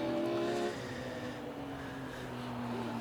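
A BMW race car on the final lap at Snetterton circuit sweeps past, its engine note sliding downward as it recedes, followed by a steady drone from other cars along the straight.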